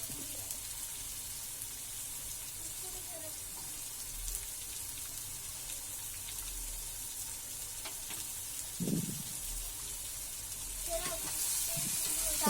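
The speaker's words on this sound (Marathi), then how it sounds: "इथे आपण आपल्या भाज्या ज्या कापलेल्या होत्या, बटाटा, वाटाणा आणि वांग, ते आपण टाकून घेऊया आणि मिक्स करून घेऊया व्यवस्थित." Potato, peas and eggplant stirred into roasted spices in a pan, giving a steady soft sizzle with occasional scraping stir strokes and a brief clunk, all fairly quiet and close.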